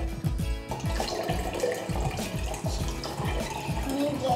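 Water pours and splashes into glass jars filled to 3 cups each, a continuous liquid rush with small gurgles and clinks, close by and fairly loud.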